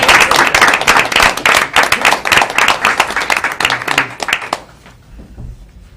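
Loud audience applause at a school board meeting, dense steady clapping from many hands that carries on for about four and a half seconds, then drops off into quiet room noise.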